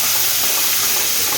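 A pan of shahi paneer sizzles and hisses steadily as it fries with ginger and garam masala, a loud, even, close-up crackle.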